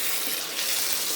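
Water poured into a simmering Indian chicken curry gravy makes a steady, close hissing splash that runs throughout with no talk.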